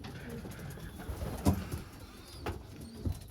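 Racing pigeons cooing softly inside the loft, with a few low coos and light rustles and bumps over quiet background noise, close by and fairly faint.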